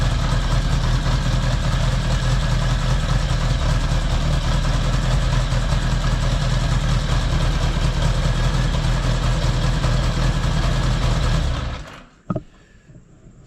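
A 1975 Honda Goldwing engine idles steadily and close after carburetor synchronization, an even rumbling idle that cuts off abruptly near the end, followed by a single faint click in the quiet.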